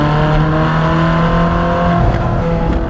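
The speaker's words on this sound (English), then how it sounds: "On my list was the 458 engine and its sound" A Ferrari 458 Spider engine sounds close and loud, a sustained mechanical tone with strong harmonics and a slight dip and shift in pitch partway through, heard alone.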